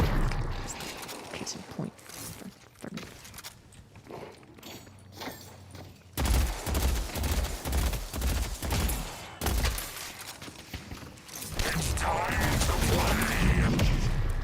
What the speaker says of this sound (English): For all the bombs Geist is gonna be throwing.